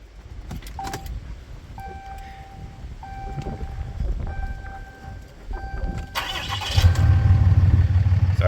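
A 2017 RAM pickup with a 6.7L Cummins diesel cranks and starts. Light clicks and whirring come first, then the engine catches near the end and settles into a loud, low, steady rumble close by.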